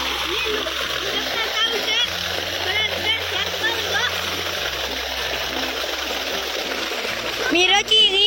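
Water gushes from a village well among coconut trees with a continuous splashing, rushing sound, close and steady throughout. Faint voices are audible beneath it.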